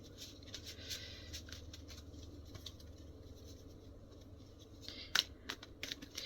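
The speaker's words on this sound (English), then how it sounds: "I'm just going to do a little bit more shuffling here with your energies" Soft papery flicks and light riffling as tarot cards are shuffled by hand, quiet and close, with a few sharper snaps near the end over a low hum.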